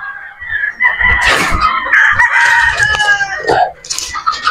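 Chickens cluck and call close by, with busy overlapping squawks and a crow-like call over a few seconds, and no talk.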